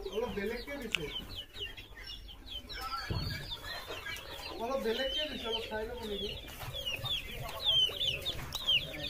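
Several local free-range chickens cluck and chatter nearby in a busy, overlapping flock on a poultry farm, with faint voices in the background.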